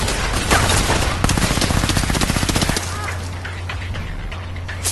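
Gunfire from a hybrid-MMO shooter video game crackles in rapid, dense bursts for the first few seconds, then thins to scattered, quieter shots over a low steady rumble.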